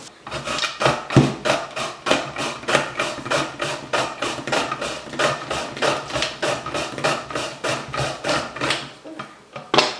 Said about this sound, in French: La lame coupe super bien.